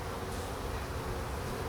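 Honey bees buzz steadily inside an open hive during a spring inspection, a dense continuous hum that stays close and even throughout, with no talking.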